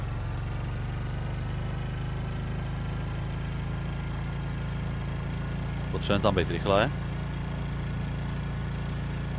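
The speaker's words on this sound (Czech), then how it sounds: "Situace si žádá nasazení motoru." A motorboat engine in Stranded Deep runs as a steady low drone throughout, and a voice speaks briefly over it partway through.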